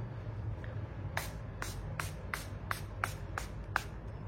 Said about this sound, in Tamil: இப்படி ஸ்ப்ரே போட்டாலே then makeup fix ஆயிடும்